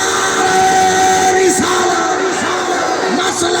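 An audience at a Quran conference roars back a massed shouted response to a Naara-e-Takbeer chant, a loud sustained crowd bellow with rising yells.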